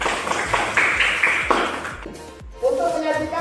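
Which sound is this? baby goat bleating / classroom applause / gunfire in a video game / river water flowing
classroom applause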